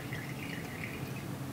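Vinegar drains out of a glass burette in a faint, steady trickle of liquid against a quiet background during an acid-base titration.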